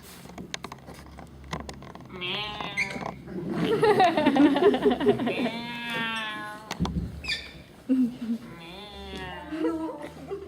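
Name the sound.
child imitating a cat meowing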